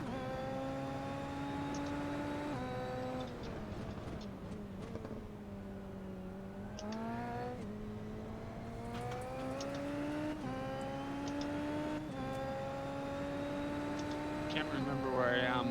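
A Super Formula race car engine revs and accelerates around the Montreal circuit, a continuous high-pitched whine that rises and falls with gear shifts, heard close throughout, with a voice talking over it.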